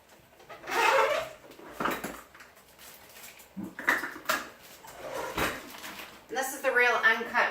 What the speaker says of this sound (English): you'll hear my dogs barking in the background